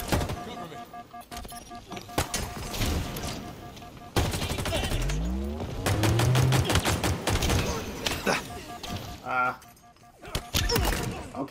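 Rapid automatic gunfire and explosions from Halo Infinite multiplayer, loud, with dense bursts and short gaps, while a player talks over the fighting.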